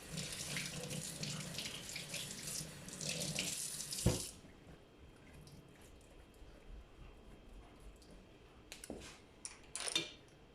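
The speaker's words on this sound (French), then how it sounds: "On va rincer." A tap runs steadily into a sink while a paint brush is rinsed under it. The water is close and fairly loud for about four seconds, then shuts off, leaving faint knocks and brief splashes.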